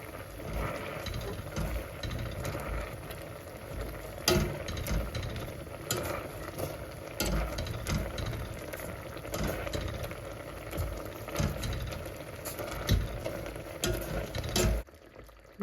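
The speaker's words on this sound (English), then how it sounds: "Let's crush the damsons." Damsons being crushed and stirred in a pan for a simple damson dessert, a continuous wet mashing and bubbling with scattered knocks of the utensil against the pan, steady and close with no talk.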